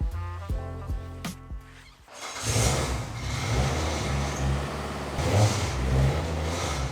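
BMW E36 M3 starting up and idling in a garage, preceded by a few clicks and faint tones, then a deep rumbling engine that swells briefly as it is revved, near and steady.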